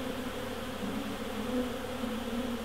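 Bees swarm around wild bee hives in the bush, a dense, steady drone of buzzing that fills the air continuously and stays close and even, with no voices.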